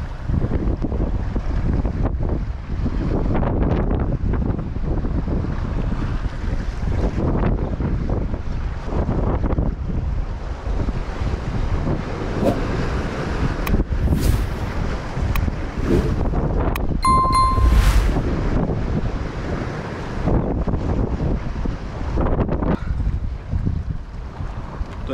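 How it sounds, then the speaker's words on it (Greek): Rough sea surges against a rocky Cycladic cape while strong wind buffets the microphone, making a constant, heavy roar with swelling gusts and waves and a brief metallic click partway through. "έχει ένταση η θάλασσα."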